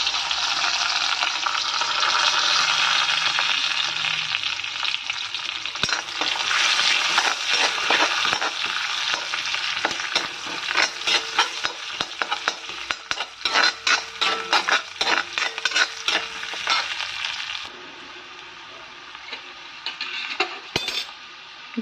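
Bay leaves and onion fry in hot oil in a kadai, a loud steady sizzle with frequent clinks and scrapes of stirring, easing to a quieter hiss near the end.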